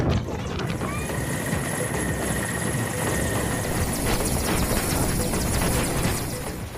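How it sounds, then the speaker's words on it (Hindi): A helicopter flies during a flood rescue in Khanakul, West Bengal, its rotor giving a loud, continuous rapid thudding and whine that holds steady throughout with no speech. "पश्चिम बंगाल के खानाकुल में बाढ़ बारिश के बीच फंसे लोगों को हेलीकॉप्टर की मदद से निकाला जा रहा है"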